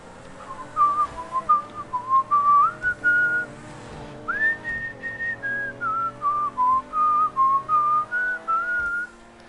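Melodic whistling from the soundtrack of GTA 5, a clear tune of repeated short phrases that rise and fall, carried over a soft sustained musical backing and heard alone without talk.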